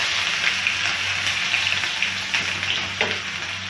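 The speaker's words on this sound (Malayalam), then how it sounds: "നമ്മുടെ കടുക് പൊട്ടി വന്നു" Mustard seeds splutter and crackle in hot oil in a pan while rasam is being made, a dense steady sizzle with scattered pops running throughout, close and fairly loud with no voices.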